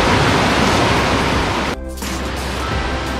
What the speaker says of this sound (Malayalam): ഈ വെള്ളം വരുന്ന മുകളിൽ വേറെ മലയുടെ അവിടെ നിന്നാണ് വരുന്നത്,